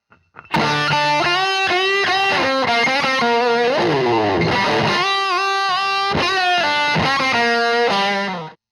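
A fast blues lick on distorted electric guitar in minor pentatonic first position, with quick runs, bends and a sliding passage in the middle, played alone and loud.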